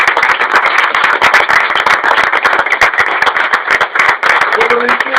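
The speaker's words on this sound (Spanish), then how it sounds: "Entonces hacemos un aplauso por Gagarin." A gathering claps for Yuri Gagarin, a loud, dense run of hand claps, close and continuous, with a voice briefly heard near the end.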